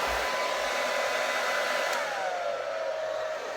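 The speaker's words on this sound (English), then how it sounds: "Lowest setting possible. Just blow dry it." A hair dryer on its lowest setting blows steadily on curly hair being straightened, a constant near airflow whoosh with a slight pitch drop partway, no voices.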